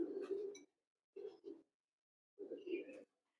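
Original Teddy pigeons cooing in three short, low throaty bursts separated by silence, close and fairly soft.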